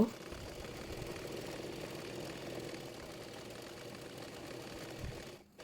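Sewing machine stitching a kameez neckband fabric onto pasted paper, a steady low mechanical hum and rapid needle chatter running continuously before stopping at the end.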